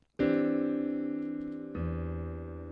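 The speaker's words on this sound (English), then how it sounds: "a major 2 over the third, and it sounds like this" A sustained piano chord, a major 2 over the third triad, rings out, then a second chord with a deeper bass enters and holds, fading slowly; no voices, instrument close and clear.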